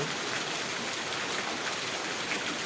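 Steady rain falls without a break, a dense, even hiss of drops that holds at a constant level throughout, with no voices.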